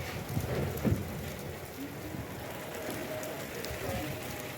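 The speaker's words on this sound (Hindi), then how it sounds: "माशाल्लाह से बारिश, फुल तेज़ बारिश हो रही है।" Heavy rain falls on a rooftop as a steady, dense wash of drops with a few louder knocks near the start and no talking.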